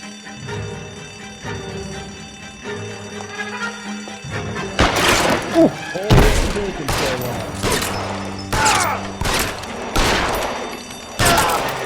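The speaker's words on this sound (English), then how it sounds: "I shot his hat off." Gunfire in the crime game LA Noire: a burst of loud, sharp shots cracks out in quick succession over a background of game ambience, with several more shots following in an irregular rhythm.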